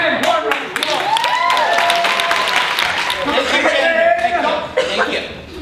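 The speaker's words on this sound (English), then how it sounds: "One round of applause." Audience applause greets a contestant at a live comedy show, a loud, continuous spread of clapping mixed with cheers, chuckles and excited voices calling out over it.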